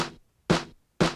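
Layered snare and clap sample from a chopped drum production: three sharp, bright hits spaced about half a second apart, each with a crisp snappy attack and short decay, played alone.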